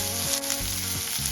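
Whole garam masala, cumin, green chilli and coriander leaves frying in hot oil crackle with a bright, dense sizzle, close and steady for a short stretch with no voices.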